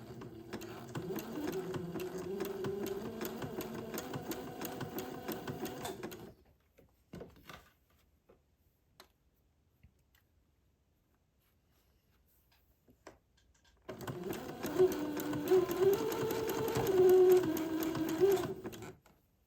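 A sewing machine stitches gathered lace onto a dress in two long, steady whirring runs, separated by a quiet pause of several seconds with faint handling sounds, the motor close and fairly loud.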